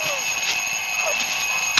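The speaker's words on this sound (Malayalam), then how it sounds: "അലാറം." An alarm clock rings in a film scene, a loud, steady high electronic tone running unbroken through the moment, close by.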